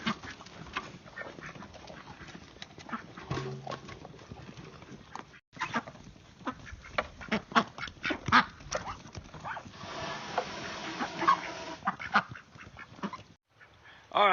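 Ducks quack at feeding time on a small farm with goats, a busy run of close, loud quacks, with a dog barking now and then and brief human voices.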